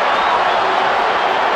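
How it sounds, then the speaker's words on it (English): A football stadium crowd surges loudly in a brief, dense roar during a Real Madrid versus Manchester United match, with a faint whistle rising through the noise. "a little bit of excitement for the crowd again"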